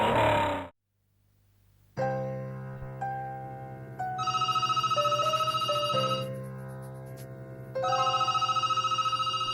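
A landline telephone rings repeatedly in an office, its tonal ring pulsing steadily and loudly across the clip after a brief quiet start, with no talk.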